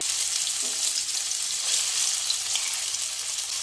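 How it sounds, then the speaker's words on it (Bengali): Soybeans frying in hot mustard oil in a wok, giving a steady, bright, hissing sizzle that stays even throughout with no voices. "অল্প অল্প করে সয়াবিনগুলো ভাজতে হবে।"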